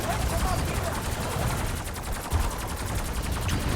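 Nail gun with Deadwire, triple pack-a-punched, firing at the Z-Rex boss in Black Ops 6 Zombies Shattered Veil, a rapid steady stream of sharp mechanical shots with game noise underneath.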